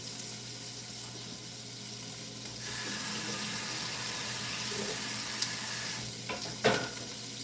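Tap water runs steadily into a sink as food is rinsed in a home kitchen during breakfast cooking, with a continuous close hiss, a louder gush midway and a few clinks near the end.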